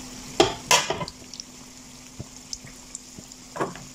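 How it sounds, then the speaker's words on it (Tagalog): Pumpkin and carrot fries are stirred in oil in a pan, with a few sharp utensil clinks and scrapes against the metal over a faint, steady frying hiss. "paghalo-haloin na natin yan mga kakusina para isahan ang mantika natin"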